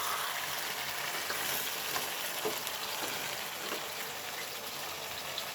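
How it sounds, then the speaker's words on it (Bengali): Fish heads sizzle steadily in hot oil and spice masala as they are stirred, a dense continuous crackle at moderate level with no talking. "এখন মাথাগুলো ভালোভাবে নেড়ে নেব যাতে মশলা উভয় পাশে ভালোভাবে"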